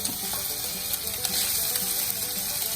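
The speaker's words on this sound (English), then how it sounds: "this is a little bit of Canadian ham, and I'm gonna put that in the skillet" Diced Canadian ham sizzles steadily in a skillet, a dense close crackle of frying with small clicks and scrapes scattered through, and no voices.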